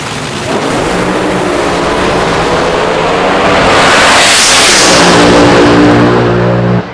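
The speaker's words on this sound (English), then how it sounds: "John Bowen ripped the throttle a couple of times on the left-hand side of the racetrack" John Bowen's AA/Fuel dragster roars loudly on the left side of the track at the Nightfire Nationals, a sustained, close engine blast that swells as the throttle is opened and then cuts off sharply at the end.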